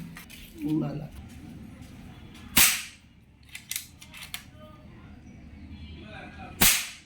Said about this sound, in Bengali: এখানে আমরা এখন পরপর চার থেকে পাঁচটা প্লেট ফায়ার করে দেখব কী অবস্থা কী হয়